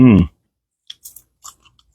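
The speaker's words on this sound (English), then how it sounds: "Crunchy tail is good, y'all." A loud, brief sound at the start, then a few faint, scattered crunchy clicks and bites of a fried fish tail being chewed, with quiet gaps between them.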